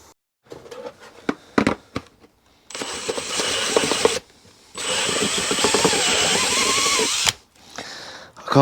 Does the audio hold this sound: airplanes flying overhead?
no